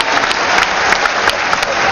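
Loud, dense applause from a large audience at a comic poetry gathering in an auditorium, steady and continuous with many overlapping claps close up.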